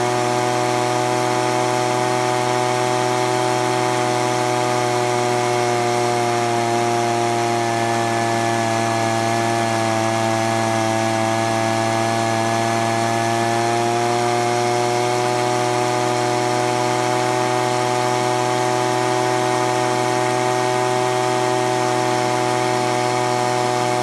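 A leaf blower's small two-stroke engine runs steadily and loudly at close range while its carburetor high-speed screw is adjusted, with a strong, even drone and only slight pitch shifts over about 24 seconds, no voices.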